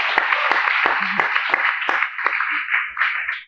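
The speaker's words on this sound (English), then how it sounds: "Give her a clap." Audience applause rewarding a volunteer at a creativity talk, a dense, steady patter of many hands clapping together for a few seconds before tapering off at the end.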